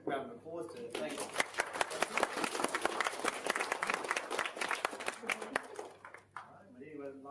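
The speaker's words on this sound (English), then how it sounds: "we'll start off with a quick round of applause to thank" An audience at a talk on applying the Digital Service Standard breaks into a round of applause, dense, steady clapping that swells and then tapers off, with a voice speaking briefly at the end.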